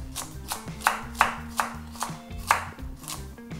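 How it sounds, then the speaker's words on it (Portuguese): A knife chops carrot on a cutting board in steady, evenly spaced strikes, about eight crisp close cuts in a few seconds, with faint background hum. "Cortar a cenoura."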